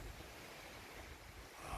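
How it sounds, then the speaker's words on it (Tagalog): Low, steady roar of strong typhoon wind on an empty beach mixed with the wash of surf, faint and continuous with no voices. "lakas talaga ng hangin"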